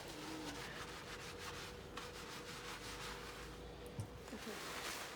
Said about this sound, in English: So I'm going to gently rub it everywhere.